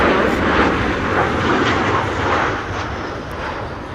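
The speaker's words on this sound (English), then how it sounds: "This is KLM flight 1232 arrived from Gothenburg." KLM airliner arriving from Gothenburg at Amsterdam Schiphol in high winds, a loud rushing engine roar mixed with gusty wind noise that fades a little toward the end.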